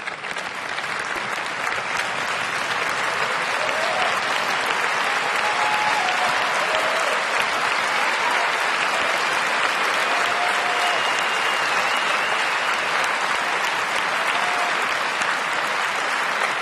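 Sustained, loud applause from the audience at Apple's iPhone 6s launch event fills the hall evenly for over sixteen seconds, with a few faint whistles rising above the clapping.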